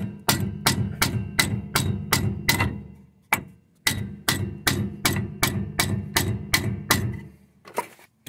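A hammer drives a bolt into the bushing of a trailer leaf spring, striking in two quick runs of about eight sharp metallic blows each, separated by a short pause, loud and close with no talking.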